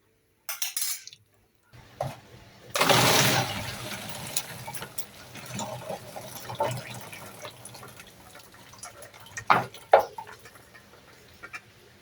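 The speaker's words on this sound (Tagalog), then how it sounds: "Tanggalan natin ng tubig." Water is poured off a pot of freshly boiled peanuts, a brief gush and splash followed by scattered drips, knocks of the pot and light clinks, fairly close and soft.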